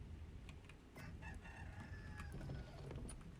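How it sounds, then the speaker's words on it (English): Chicken sounds in a modded Ark survival game, a few short clucks and calls scattered over a low steady background rumble, moderately distant and without speech. "there's the chicken again"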